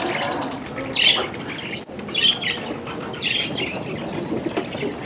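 Pigeons at a cattle farm flap their wings in several bursts, mixed with faint bird calls against a busy outdoor background.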